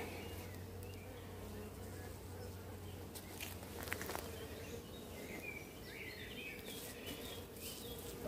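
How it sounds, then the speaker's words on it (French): A fast-growing honeybee swarm droning steadily at moderate distance, a continuous low hum with faint birdsong and a few brief rustles over it. "Il grossit très vite, hein, cet essaim."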